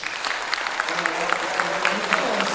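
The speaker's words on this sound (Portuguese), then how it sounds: "Então, peço uma salva de palmas para nós." Audience applause at an anniversary celebration of an anti-racism group, a dense steady patter of many hands clapping throughout, with faint voices mixed in.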